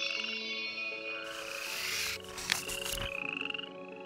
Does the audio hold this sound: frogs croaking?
yes